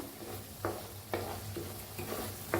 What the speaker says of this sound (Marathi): मसाला सगळा घालून घेतलाय, आता हलवून घेऊया।